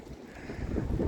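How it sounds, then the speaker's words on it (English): Wind gusts outdoors buffet the microphone with a low, rumbling roar that swells louder toward the end, with no voices. "Oh, it's windy"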